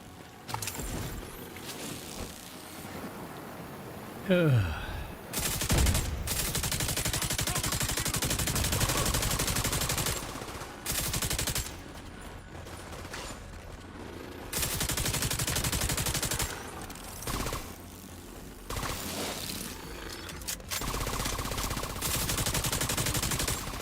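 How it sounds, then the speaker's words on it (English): Gunfire in a TV drama shooting scene, bursts of rapid machine-gun-like shots in several separate volleys with short pauses between, loud and close, with no talking over them. "He's shooting. I was going to say he's shooting at someone else."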